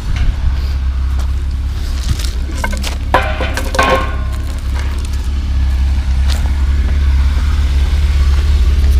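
A BMW E36 with a swapped-in M50 six-cylinder engine idling steadily, carrying a slight exhaust leak, a loud low rumble held throughout with a few faint clicks and rattles over it, no talking.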